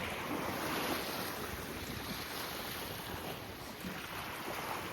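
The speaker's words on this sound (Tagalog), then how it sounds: "Malakas lang yung hangin." Strong wind buffets the microphone in a constant roaring rush at Pruden's Point Resort, Saskatchewan, with surf-like noise underneath and no voices.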